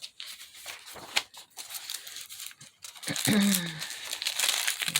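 Thin onion skin paper torn from an atlas rustles and crinkles as it is handled, soft crisp crackles that grow louder and denser in the second half, close to the ear.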